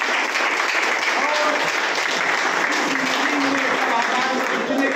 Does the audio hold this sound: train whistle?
no